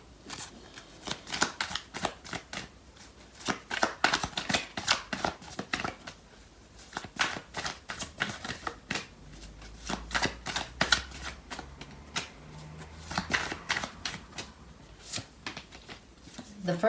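Tarot cards shuffled by hand during a love reading, a steady run of crisp riffling and slapping bursts that repeat across the clip with brief pauses, close and fairly loud, with a faint low hum near the end.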